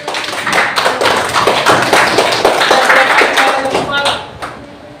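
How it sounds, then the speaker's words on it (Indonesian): Classroom audience applauding presentation group 1 at a teacher-training session, a dense, loud burst of many hands clapping together that holds for several seconds, then thins out and fades near the end. "Kita kasih aplaus kelompok 1."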